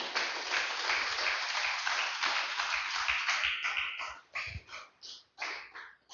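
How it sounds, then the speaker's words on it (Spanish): A church congregation claps loudly and densely, then the applause thins into scattered claps and tapers off over about six seconds. "Denle un fuerte aplauso al Señor, aleluya."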